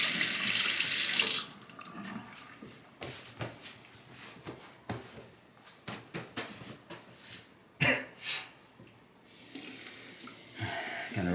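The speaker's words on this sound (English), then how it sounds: "Gonna rinse the blade again." Running tap water rinses a straight razor blade after honing on a Chinese natural hone, a loud burst of flowing water at the start, then quieter intermittent splashes and clinks, a cough, and a second gush near the end.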